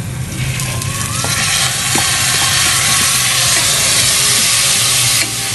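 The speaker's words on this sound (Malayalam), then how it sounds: "കഴുകി വൃത്തിയാക്കി വെച്ചേക്കുന്ന 1 കപ്പ് അരി ഇതിലേക്ക് തട്ടാം." Washed rice poured into hot ghee with ginger in a pan, giving a steady, loud frying hiss and sizzle that swells slightly partway through, with faint clinks of stirring.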